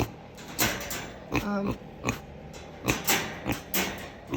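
A pig throws a fit in a cold shed, letting out a series of short, loud squeals and grunting oinks in irregular bursts, close by and without talk.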